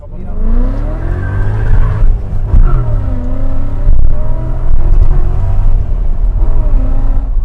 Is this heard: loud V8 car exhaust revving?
yes